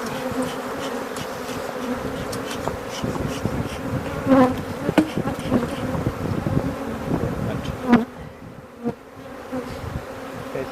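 Honey bees buzz continuously and densely during an open hive inspection, a close, steady drone with individual bees zipping past near the microphone.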